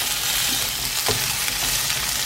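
Vegan fish-style dish ingredients fry in a hot pan, giving a steady, close sizzle and crackle throughout with no talking.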